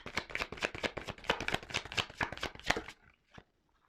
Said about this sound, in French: attendez, je prends encore une carte.